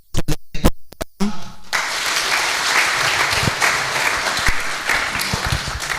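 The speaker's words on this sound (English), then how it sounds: "Can we give a round of applause to the program?" A few sharp, separate claps open, then a room at a public health officers' summit breaks into full applause for the program, a dense steady clatter of many hands that continues to the end.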